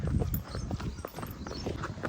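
Hooves of three horses clop in a quick, uneven rhythm on a hard road, fairly close and steady, moving together.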